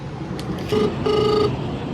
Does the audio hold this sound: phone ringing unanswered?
yes